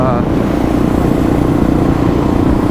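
A Kawasaki KLR650 dual-sport motorcycle being ridden, its engine a steady, loud low drone that fills the whole stretch without breaks.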